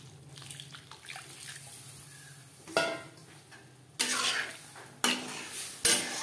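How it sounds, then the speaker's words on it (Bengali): Hot water pours into a pot of pea dal with bitter gourd in a home kitchen, a soft trickle followed by several louder splashing bursts and clinks of a pot, fairly quiet overall. "আর দিয়ে দেব পরিমাণ মতো গরম জল।"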